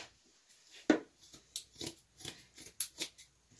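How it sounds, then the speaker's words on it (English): Scissors snipping through shirt sleeves in a quiet room, with a series of short, crisp cuts in an uneven rhythm, close and fairly soft. "You got a scissors?"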